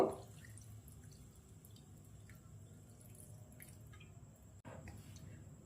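Water is added to a pot of bilati amra (hog plum) chutney cooking with turmeric, giving soft, faint dripping and trickling over a low background hum, with a small splash near the end.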